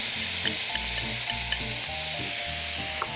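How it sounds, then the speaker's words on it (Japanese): Tofu and pea shoots being stir-fried in a pan give a steady, close sizzle, with soft spatula scrapes and stirring knocks coming in uneven bursts throughout. "豆苗がしんなりするまで炒めます"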